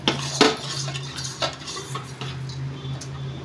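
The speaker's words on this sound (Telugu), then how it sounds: "ఎసరు వచ్చిన తర్వాత ఇప్పుడు సేమియాలు అయితే వేసుకుందాము" Vermicelli is tipped into boiling water in a steel pot and stirred, giving a few sharp metal clinks and scrapes of a spoon over a low steady bubbling hum, with no talking.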